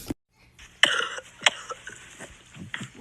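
Several sharp, harsh coughs close to the microphone, with two distinct loud barks after a brief silence and softer throaty sounds in between.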